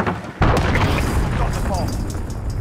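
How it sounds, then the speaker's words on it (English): A cruise missile strike detonates in Call of Duty Modern Warfare during a hardcore Search and Destroy match, a sudden heavy boom followed by a sustained loud rumble and debris over a couple of seconds. "Enemy cruise missile incoming!"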